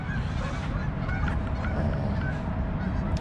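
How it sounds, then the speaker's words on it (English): A flock of geese honks continuously, many overlapping calls blending into a busy chorus at moderate distance. "that's a lot of geese right there"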